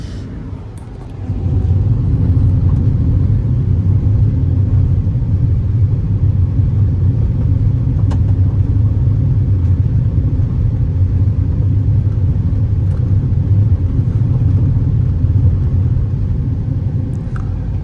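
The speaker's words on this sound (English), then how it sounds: "let's get back to what I call the road gravel test" A 2023 Ford Escape ST-Line rolling over loose gravel, a loud continuous rumble of engine and tire crunch that builds after the first second and holds steady, with no talking.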